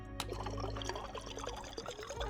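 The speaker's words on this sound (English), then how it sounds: "So I'm gonna have a drink." Water pouring and trickling in the space survival game Stationeers on the moon Europa, a steady close liquid stream with small splashes that runs unbroken throughout.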